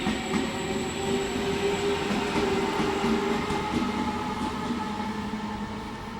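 A train arrives at a platform in Venezia Mestre station with a steady, loud rolling rumble of wheels and carriages, a faint high squeal of wheels on rails running throughout, close by and unbroken.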